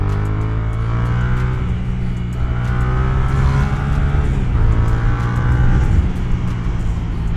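Dirt bikes ride on pavement in town, engines revving loudly and rising and falling in pitch as they pass close by, with gear changes and a steady motor drone throughout.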